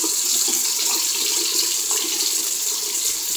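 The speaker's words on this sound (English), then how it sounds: "waiting for the water to warm." Tap water runs steadily into a sink while waiting for it to warm, a continuous close hiss with no talk over it.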